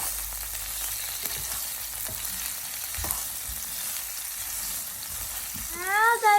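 Prawns sizzle steadily in a hot pan for a stir-fry with broccoli and garlic sauce, with faint scrapes from stirring, and a brief pitched tone sounds near the end.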